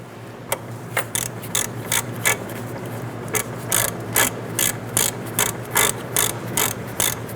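A ratchet tightens a banjo bolt on the front brake hose of a 1994-2004 Ford Mustang, giving close, crisp clicking bursts in a steady back-and-forth rhythm with no talking.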